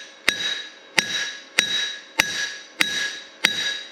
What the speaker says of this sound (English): beating it like this with a hammer seems to be doing a trick